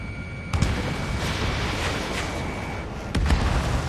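An enemy aircraft destroyed in the Ace Combat 7 video game: two heavy, booming explosions about two and a half seconds apart over a steady roar of jet and battle noise.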